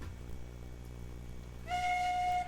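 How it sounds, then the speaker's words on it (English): A steam locomotive whistle sounds in the Railroads Online video game. A steady steam hiss and chuffing run throughout, and then a clear, loud whistle tone cuts in and holds for the last second. "I have to push the mouse up to blow the whistle"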